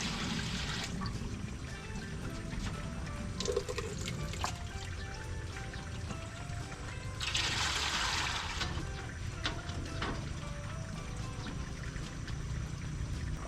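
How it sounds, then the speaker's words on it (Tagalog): Water is poured into a pot while sapin-sapin is being made, a trickling, splashing flow at close range with a louder gush partway through, then a softer dribble. "Maglagay lang po tayo ng tubig dito."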